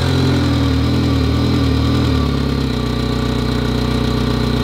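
Skoda Fabia 1.4 petrol engine after an overhaul, idling with a rough, diesel-like clatter; a steady, loud, close drone with a slight change in tone midway and no speech.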